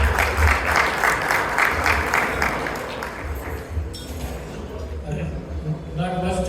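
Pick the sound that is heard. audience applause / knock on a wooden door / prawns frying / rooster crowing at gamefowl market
audience applause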